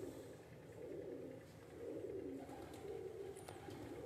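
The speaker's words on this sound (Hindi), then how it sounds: "शानी भाई कबूतर जी देख लें" Pigeons coo in soft, repeated low murmurs on a rooftop, faint and continuous, with a brief higher bird chirp near the end and no talk.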